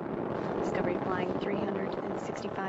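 Space Shuttle Discovery's engines roar during a launch from Kennedy Space Center: a steady, loud, broadband rumble that holds continuously with no breaks.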